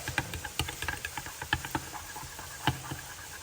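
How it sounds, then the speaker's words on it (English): Freezing rain outside on an extremely cold day ticks and patters in scattered, irregular clicks, faint and close, heard from indoors where soft plastic baits are being made. "I do apologize if you can hear the rain, the freezing rain"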